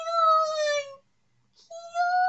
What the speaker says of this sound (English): You'll only meow and try to, like, be all cute to get what you want from me, huh?